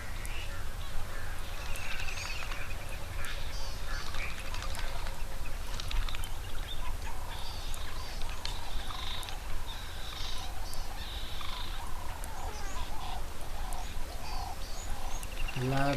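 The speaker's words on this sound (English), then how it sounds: "I love listening to all the bird sounds, and got some laughing doves and Cape turtle doves." Laughing doves and Cape turtle doves coo and call among other chirping birds at a waterhole, over a constant noisy outdoor background, fairly faint and ongoing.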